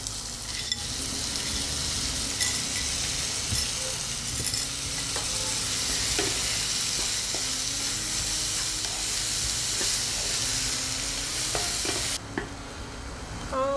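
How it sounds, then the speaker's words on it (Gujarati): Finely chopped onions, four of them, sizzle steadily in hot oil on a tawa, a constant close frying hiss with occasional stirring scrapes and no talking. "મતલબ બિલકુલ ખાલી તેલમાં સતરાઈ જાય થોડું ડુંગળી"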